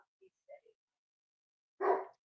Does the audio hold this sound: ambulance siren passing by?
no